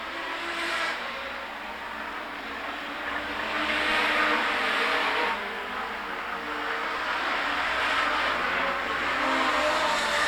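A Sigma production sedan race car accelerates along a hot track in Collie, its engine note rising and falling in steady swells, moderately close and unaccompanied by talk.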